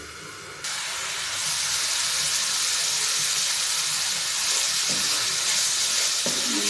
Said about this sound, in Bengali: এখন এটাকে আবার কষিয়ে নেব